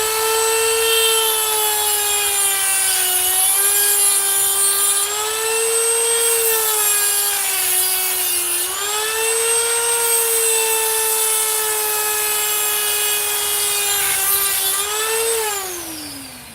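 A high-pitched Dremel rotary tool whines continuously and loudly, its pitch dipping slightly as it saws into battery cells, then winding down at the end.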